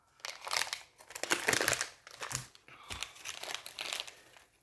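Plastic cling film crinkles and crackles as it is peeled off a lump of modelling paste, a close run of irregular rustling bursts with brief pauses between them.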